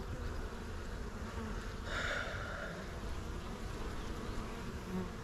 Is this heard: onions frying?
no